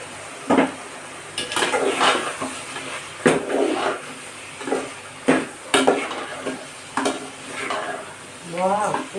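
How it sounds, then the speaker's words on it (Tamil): Curry masala is added to chicken gravy in a frying pan and stirred, a steady sizzle and hiss under repeated scraping and clanking of a spoon against the metal pan, close and moderately loud, with a brief voice near the end. "என்ன செய்கிறேன், கறி மசாலா போடுறேன்"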